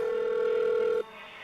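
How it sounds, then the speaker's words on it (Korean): A mobile phone ringtone ringing from a dead body's pocket, a sustained electronic tone with harmonics that holds steadily for about a second, then cuts off, leaving a faint softer tail. "이 전화는 계속 울리는데 핸드폰은 어디에서도 찾을 수 없고"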